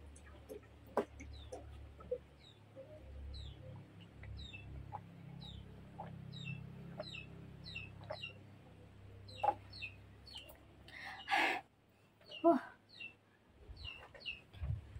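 Several chickens cluck and chatter nearby in short, scattered bursts, with a few louder squawks toward the end and no talking.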